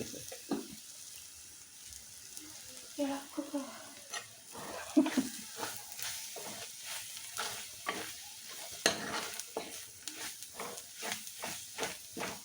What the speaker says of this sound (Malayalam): മസാല നല്ലതുപോലെ മൂത്ത് വരട്ടെ ഇളക്കി